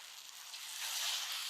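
Jackfruit sweets fry in hot oil in a small pan, giving a soft, steady crackling sizzle that swells slightly toward the end.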